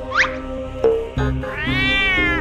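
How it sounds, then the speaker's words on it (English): A cartoon cat meows loudly in an animated scene, a rising yowl followed by a sharp accent and a long, drawn-out caterwauling meow, clear and close with no talk over it. "This evil cat made Jax fall asleep with its funky fumes."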